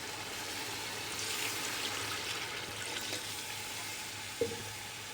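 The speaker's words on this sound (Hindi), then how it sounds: "अब 3 गिलास हमने इसमें पानी डाल देना है।" A steady stream of water pours and hisses into a hot pot for chicken pulao, a continuous broadband rush with a brief clink near the end.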